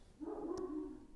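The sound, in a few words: dog barking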